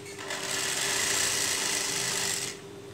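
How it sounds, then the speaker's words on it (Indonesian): A sewing machine stitches a girl's dress in one short, steady run with a continuous whir, close and fairly quiet, then stops. "Dijahit dulu teman-teman."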